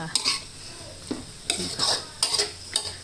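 Chicken and vegetables stir-fried with dark soy sauce in a pan: spatula strikes and scrapes against the metal come in irregular bursts over a low sizzle, close and fairly loud, with no talking.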